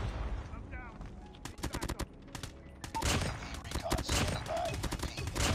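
Rapid automatic M4 rifle fire in the mobile shooter Call of Duty Mobile, bursts of sharp shots crackling in quick succession through a busy game mix, with a player talking over parts.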